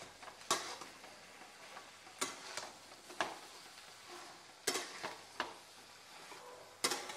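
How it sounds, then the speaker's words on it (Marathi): Potatoes and chutney being stirred and sautéed in a pan for samosa filling, with a soft sizzle underneath and sharp scraping clinks of the spoon against the pan coming in irregular bursts. "आणि आता आहे ना चटणी छान अशी परतून घ्यायची मस्त"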